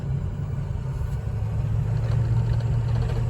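A Ford 6.0 Power Stroke diesel truck engine runs steadily, a deep continuous rumble with a low throbbing idle, close and loud with no voices.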